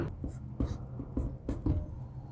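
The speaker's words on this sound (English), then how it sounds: "So I'm just going to write a random equation." A hand writes out a logic equation with quick, uneven pen strokes, close and fairly loud, in short scratchy bursts with brief pauses between them.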